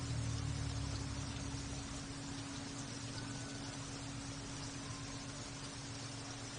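Heavy rain falling on a flooded road at night in Iguatu, Brazil, a steady even hiss with a low constant hum underneath, faint and distant as if picked up by a security camera microphone.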